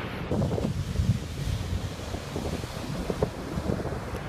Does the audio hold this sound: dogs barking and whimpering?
no